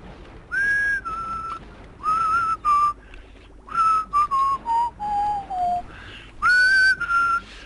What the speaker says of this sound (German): Alter, pfeif doch nicht, ey, du Pfeife.